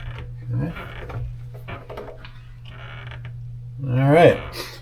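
A door hinge lubricated with WD-40 swung back and forth, soft creaks and mechanical movement up close, a louder rising creak near the end, with a low hum underneath.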